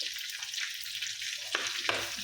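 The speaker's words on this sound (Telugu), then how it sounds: "ఏం వేయట్లేదు, పచ్చిమిర్చి అల్లం జీలకర్ర అంతే తాలింపు." Green chili, ginger and cumin sizzle in hot oil for a tempering, a steady close frying hiss with a couple of sharper crackling pops near the end, no voices.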